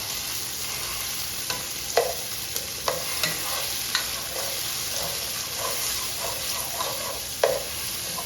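Frozen tomato and pepper saute in a pan with a soft, steady sizzle, broken by occasional sharp taps and scrapes of a utensil stirring, close by and without talk.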